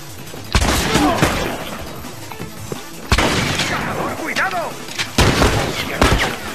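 Several sharp, loud gunshot bursts ring out in quick clusters, with booming reports and echoing tails, over a busy, noisy background in The Last of Us multiplayer.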